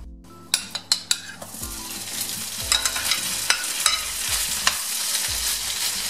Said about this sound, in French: Je vais faire frire et bien mélanger des deux côtés.